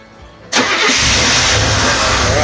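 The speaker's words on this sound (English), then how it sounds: "he's gonna turn the truck on" A truck engine cranks and catches after a quiet moment, then settles into a loud, steady, rumbling idle close by, being checked for a blown head gasket.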